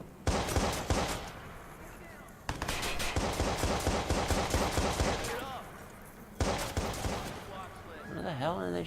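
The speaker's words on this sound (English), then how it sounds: "Where the hell are they shooting from?" Gunfire in the Watch Dogs video game: loud bursts of rapid automatic shots in three dense volleys, each starting abruptly and rattling on for a couple of seconds, with brief lulls between and a voice heard near the end.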